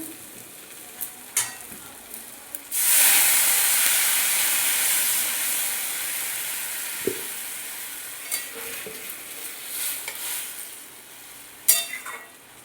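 Water hits vegetables frying in fish oil and bursts into a loud, steady sizzling hiss that slowly fades, with occasional utensil taps and stirring clicks.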